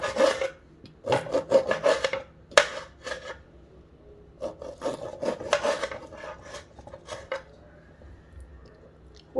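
Green chillies for lemon pickle are wiped clean by hand, producing close, repeated rubbing and scraping bursts with brief pauses and an occasional light knock.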